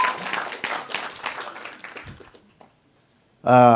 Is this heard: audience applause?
yes